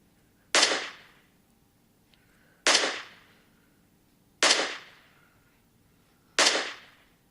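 Four loud, sharp gunshots in a video game, evenly spaced about two seconds apart. Each one is a sudden crack followed by a short decaying tail, with near silence in between.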